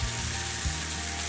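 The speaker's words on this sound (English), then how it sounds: "Ooh, that sizzle." Sourdough French toast sizzling in a hot frying pan, a steady close hiss and crackle of vegan batter-soaked bread that runs unbroken over a faint low hum, with no talking.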